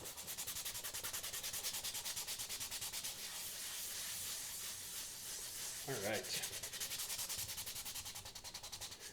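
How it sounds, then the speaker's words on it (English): Steady, gritty rubbing of sandpaper on a Spider-Man face shell, moving back and forth by hand in a fast, even rhythm, close up, with a brief spoken remark partway through. "So while we're sanding right here"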